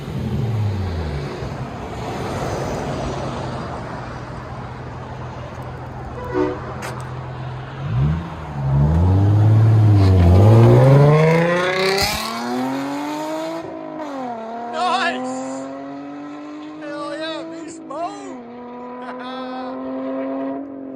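An Infiniti/Nissan V6 engine with dual exhaust idles, then revs hard and launches, pitch climbing through several quick upshifts as the throaty exhaust pulls away, with some voices underneath.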